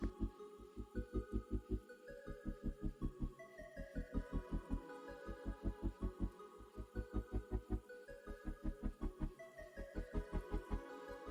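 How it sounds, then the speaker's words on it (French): An electric nail drill fitted with a cuticle bit runs at low speed around a nail, giving a soft, rhythmic pulsing whir with steady repeated throbs close to the ear, no voices. "Puis avec mon embout spécial cuticule à une vitesse douce, je viens nettoyer tout le contour"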